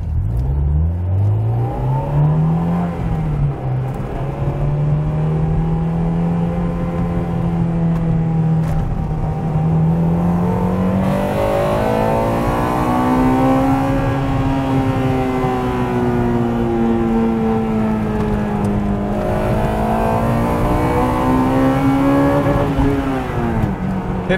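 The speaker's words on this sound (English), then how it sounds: "All right, so this is what the exhaust really sounds like." A Honda Integra Type R's exhaust booms as the car accelerates through the gears, its loud, steady drone rising and falling in pitch with each pull and shift, alone without talk.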